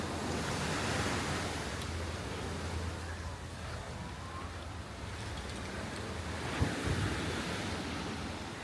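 Ocean surf washes onto Diniwid Beach in Boracay, a broad steady rush of waves mixed with wind buffeting, heard close and continuous with no clear talking.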